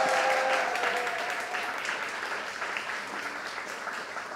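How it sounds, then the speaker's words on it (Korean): Moderate applause from a concert audience at an orchestra performance, steady clapping from many hands that holds at an even level throughout, with faint voices underneath. "쑥스러워할 수 있으니까 여러분 박수 한번 부탁드리겠습니다"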